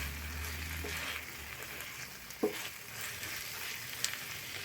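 Onions frying in mustard oil in a pan over a gas flame, giving a steady soft sizzle with a couple of sharper pops and stirring clicks, close by and alone.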